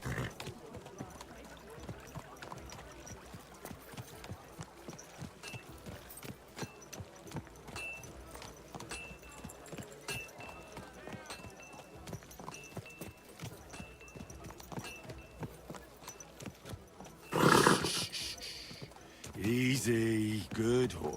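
Horse hooves clopping in an even, steady rhythm on the ground in the video game Kingdom Come: Deliverance 2. Louder voiced sounds break in near the end.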